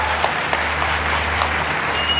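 Steady, moderately loud audience clapping at a political speech announcing student scholarships, with a low electrical hum beneath it and no clear speech.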